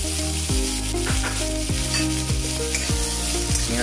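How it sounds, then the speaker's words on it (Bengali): Onion frying in hot oil, a steady loud sizzle with repeated clinks and scrapes of a spatula stirring in the pan, no voices. "এই তেলের মধ্যে পেঁয়াজটা ভেজে নেব।"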